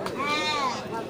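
A goat at a busy livestock market before Ramadan gives a single clear, wavering bleat, close and loud, rising then falling over about a second above a low background murmur.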